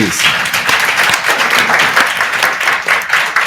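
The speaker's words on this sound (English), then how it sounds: "If you give a round of applause for the panel" Audience applause for a panel at a Future of Work think tank session at an innovation summit, dense steady clapping from a crowd sustained throughout, fairly loud and close.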